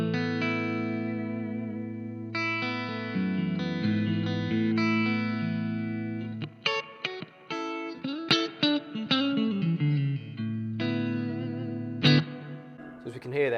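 Electric guitar through a Marshall MG30GFX amp on its clean channel with heavy reverb, played as sustained chords and then quicker picked notes and runs, the ringing tails washing into one another; close and fairly loud with no talking.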